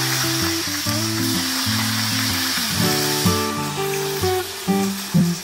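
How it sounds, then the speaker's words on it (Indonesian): Steady sizzling of bird meat frying in hot oil, with a droning tonal sound and occasional clinks over it. "Aku lanjut lagi goreng sisanya."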